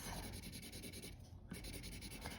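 Scratchy up-and-down vertical pencil strokes on paper, sketching grass under a pumpkin, sound as a close, steady rhythmic scraping with one brief pause partway through.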